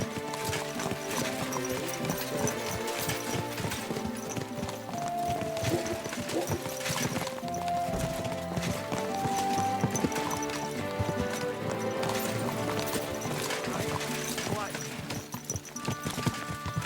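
Rhythmic horse hooves clip-clop steadily under dense game music in Kingdom Come: Deliverance II, with a brief whinny mixed in.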